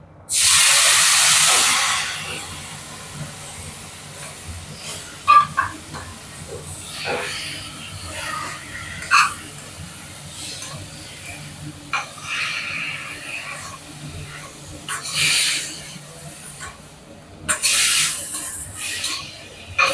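Chopped onions and tomatoes sautéing in a pan: a loud burst of hissing sizzle opens, then quieter sizzling comes and goes with stirring, and a voice can be heard faintly.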